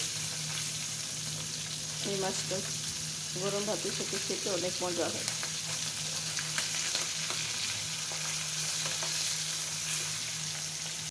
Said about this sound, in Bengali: এখন ভেজে নেব মাছটা পিট হয়ে গেছে আর একটু উল্টে দিচ্ছি